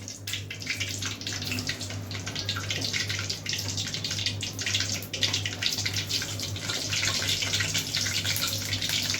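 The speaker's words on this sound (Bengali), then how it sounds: "এইভাবে টিকিয়াগুলো ছাড়বেন" Chicken tikka shami kababs sliding one by one into hot oil, giving a steady, close, broadband frying hiss that sounds almost like running water, with a low constant hum underneath and no talking.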